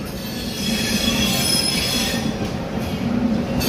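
Wheels squeal loudly and steadily under a WAP7-hauled high-speed train on the Vijayawada–Gudur–Renigunta line, with a continuous rumble of rolling carriages and no voices.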